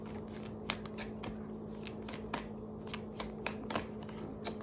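Angel oracle cards being shuffled by hand, a steady run of soft papery riffles and flicks with occasional sharper snaps, close and fairly quiet over a faint background hum.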